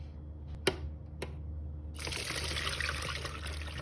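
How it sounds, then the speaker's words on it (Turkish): Cherries and their juice pour through a strainer into a container. After a few faint clicks, a steady splashing, trickling rush of liquid begins midway and runs to the end. "Kirazlarımızı suyla birlikte buraya dökelim."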